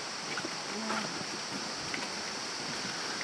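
A rainforest creek in the Daintree flows with a steady, broad hiss of running water, continuous and moderately distant, with faint voices murmuring now and then over it.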